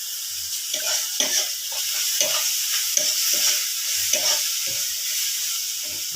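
Potato filling with chopped ginger sizzles steadily in a pan while a spatula stirs it in repeated soft scraping strokes, close and continuous, with no talking.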